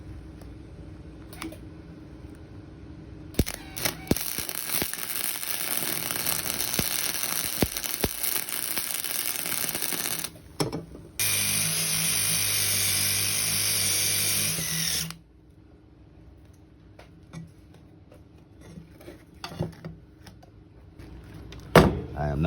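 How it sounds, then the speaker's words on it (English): Power tool grinding leftover weld slag and char off welded exhaust pieces, a loud continuous whine running several seconds, then a harsher, higher burst before dropping to quiet handling noises. "all that slag that's left over and all that little char, you got to clean it off so you can get a good connection again"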